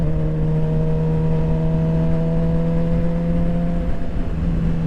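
Steady engine drone from a motorcycle while riding, a constant low hum with a strong sustained tone and some wind rush, loud and close throughout without talk.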